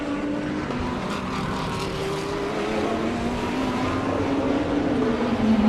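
Race cars in a sim racing game, a Porsche chasing a Lamborghini, engines droning loudly and continuously with a rising pitch as they accelerate, no talking over them.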